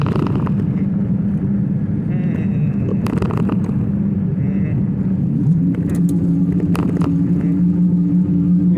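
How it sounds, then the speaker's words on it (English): Electrical utility trucks roll past outdoors, their engines a loud, continuous low rumble with the faint hiss of tires, and no one speaks. "That's 3 electrical trucks."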